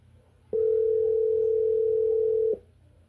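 A telephone dial tone sounds while a number is being called, one steady unbroken tone lasting about two seconds, clear and alone over a faint low background hum.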